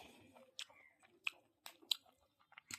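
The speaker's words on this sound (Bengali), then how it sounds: "চাউমিনই খাচ্ছি।" Someone chewing chow mein close up, soft wet mouth sounds with several sharper crunchy bites spaced unevenly over a few seconds, no talking.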